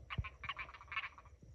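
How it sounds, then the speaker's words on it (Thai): Khiat kratan frogs croaking in rice paddies after heavy rain: a chorus of rapid raspy croaks in short pulsing bursts, close by and moderately loud, with a soft thump near the start. "เสียงเขียดอันนี้ห้องทุกคน"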